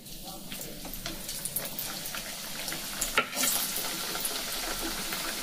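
Nimki pastries frying in a pan of oil, a steady bubbling sizzle with occasional clinks and a brief louder scrape as pieces are moved, heard close up.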